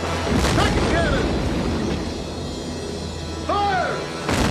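Ship cannons boom in a naval battle, heavy deep blasts over a constant roaring rumble, with distant shouted voices between the shots.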